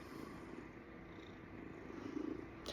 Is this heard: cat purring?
yes